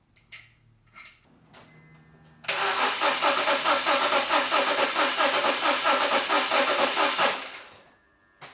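A cold BMW E46 325xi wagon engine with 220,000 miles cranks steadily during a compression test, a loud, even rhythmic churning for about five seconds after a few quiet knocks, then stopping.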